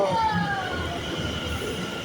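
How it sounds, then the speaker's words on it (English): A train draws near with a steady rumble and high squealing tones from the wheels, while people talk nearby. "There's a train coming."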